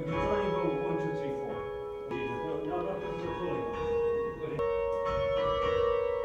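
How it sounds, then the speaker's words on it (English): Church bells ring in Christchurch, a steady sustained peal of overlapping tones with a clear strike partway through, moderately loud and continuous. "Ringing of the bells is sort of full of pleasure, full of joy, full of happiness"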